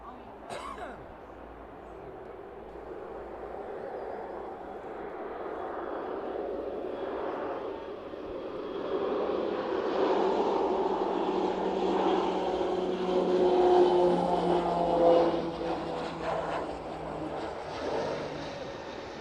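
Beechcraft King Air turboprop on evening approach to an airport runway, a distant engine drone that swells steadily louder toward the middle and then eases off, with a voice talking over it.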